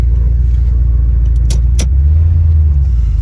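A 1987 Ford Mustang Fox Body rolls along with a deep, loud engine rumble that steadies and rises briefly, broken by a couple of sharp rattling clicks midway.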